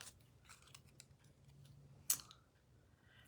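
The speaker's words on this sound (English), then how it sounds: "Chrissy, why don't you cut the sentiments apart" Scissors cut apart printed card sentiments, with quiet snips and small paper rustles and one sharper, brighter snip near the middle over a low hum.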